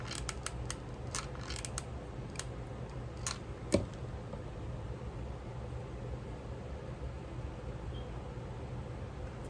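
Scissors trimming a paper flap on a craft page: several short, sharp snips in quick clusters over the first few seconds, then quiet room hush, close and soft, with no voices.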